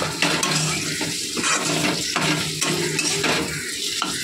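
Potatoes frying in a pan on a low flame, giving a continuous close sizzle broken by rhythmic stirring scrapes and taps, with no talking.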